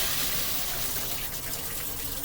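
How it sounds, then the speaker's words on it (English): An eye wash fountain in a microbiology laboratory, its water rushing up in a steady, close, broadband gush that runs unbroken from start to finish with no voices. "and you see the water rushes up."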